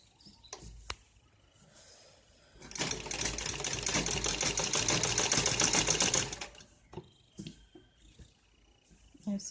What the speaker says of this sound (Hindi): ऐसे बिल्कुल बराबर करते हुए यहाँ पे भी हम एक सिलाई लगा देंगे